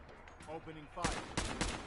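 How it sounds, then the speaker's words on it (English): Gunfire from Fallout 4, a few sharp, loud shots in quick succession that follow a brief voice. "Opening fire."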